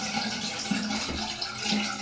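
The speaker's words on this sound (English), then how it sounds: "I'm going to rinse my finger" Running tap water splashes steadily as a finger is rinsed, a close, continuous hiss that stays even for the whole moment.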